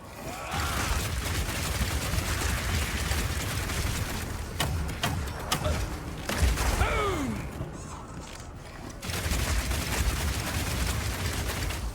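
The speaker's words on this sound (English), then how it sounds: "Charge up the heat on my crossbow, shoot out a bunch of grenades, and then start the fireworks with a power shot." Crossbow grenades and a power shot go off in the video game Path of Exile 2, a dense wash of game effects with scattered sharp cracks and bursts, loud and continuous, with no voice over it.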